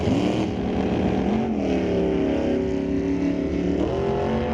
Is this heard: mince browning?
no